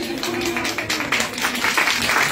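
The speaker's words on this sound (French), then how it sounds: "Merci, on applaudit." Conference audience in a hall applauding together, a dense steady wash of clapping that fills the short stretch, with some voices mixed in.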